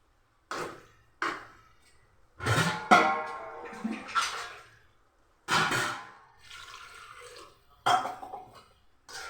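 Water splashes into a cooking pot in several short pours while making a Tamil bitter gourd and field bean curry, each a sudden gush separated by brief quiet gaps.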